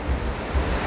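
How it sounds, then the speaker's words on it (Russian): Ocean surf rolls onto the shore of Copacabana beach at night, a steady roar of breaking waves and wind with soft low swells, heard alone for about a second. "Мы снова вернулись к морю, к океану, к его красоте, к его волнам."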